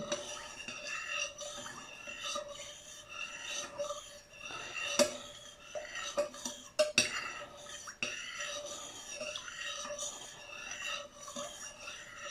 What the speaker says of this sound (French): je mélange bien la colle de peau